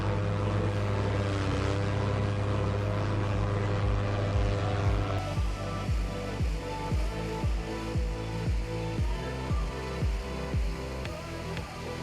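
In the MSFS 2024 video game, a Canadair CL-415 Super Scooper water bomber runs its propeller engines for takeoff with flaps at 10 degrees. The steady drone rises in pitch partway through as the engines spool up, then carries on loud and continuous.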